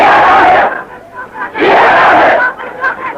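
A large crowd at a rally or gathering chants slogans in loud, rhythmic surges, two main swells separated by a brief dip, with mixed voices shouting together close by.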